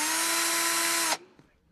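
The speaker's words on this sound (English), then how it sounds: "by only partially drilling the holes with the mount in position." A power drill spins at steady high speed while partially drilling mounting screw holes for a boat control head with the mount held in position. The sound is loud and close, runs for about a second, then stops abruptly and leaves a faint rattle.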